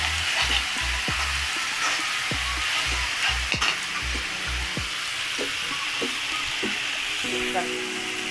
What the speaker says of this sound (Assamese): এতিয়া এইটো অকণমান ফ্ৰাই হোৱাৰ পিছত এনেকৈ ফ্ৰাই কৰিব লাগিব অকণমান।